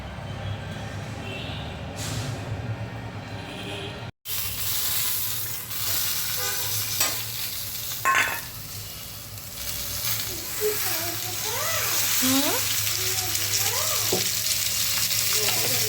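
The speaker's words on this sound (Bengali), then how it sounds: "এই মরিচটা একটু আগে একটু টেলে নিচ্ছি" Chili peppers roast in a hot pan with a steady, close sizzle and hiss that builds over the clip. Brief stirring clatters break in, and faint voices can be heard in the background.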